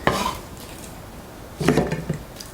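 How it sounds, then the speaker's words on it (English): A knife chops scallions into short lengths on a cutting board, with a sharp knock at the start and a quick cluster of cuts toward the end, close and fairly loud. "cut the scallion into pieces about 4 cm length and set aside"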